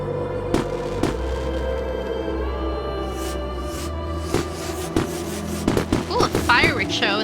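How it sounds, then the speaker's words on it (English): Fireworks show in the video game Beacon Pines: repeated sharp pops and crackles burst over a steady musical drone, growing busier toward the end. "a fireworks show and then everything freezes"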